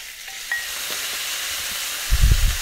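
Chicken pieces sizzle in hot oil in a frying pan, a steady close hiss with a few faint clicks and a short burst of louder bubbling near the end.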